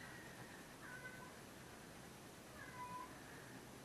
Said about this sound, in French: Bon, là, il y a mon chat qui miaule.